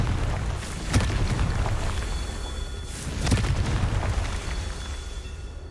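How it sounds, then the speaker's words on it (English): Confringo fire spell explosions in the video game Hogwarts Legacy: two loud booming blasts about two seconds apart, each followed by a rumbling decay, with no talk. "Confringo."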